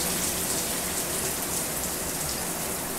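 Steady, dense hiss of water pouring from a Speakman S-2252 Icon brass fixed shower head set to a wide rain-style spray, continuous and fairly loud with no break.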